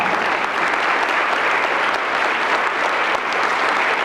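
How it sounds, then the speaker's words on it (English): An audience at a United Way campaign kickoff gives agency representatives a round of applause: a thick, even wash of many hands clapping at constant loudness throughout, with no voices standing out. "Give them a round of applause"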